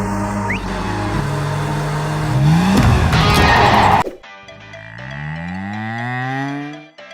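Water buffalo mooing on CCTV footage in a long, loud, drawn-out low call that rises and fades, following a burst of noisy rumble and squeal.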